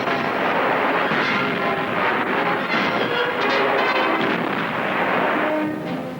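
WWII flak, anti-tank guns and artillery firing in a German newsreel, a loud, dense, continuous rumble of booms with no clear gaps between them.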